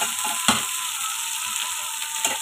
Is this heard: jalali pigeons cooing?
no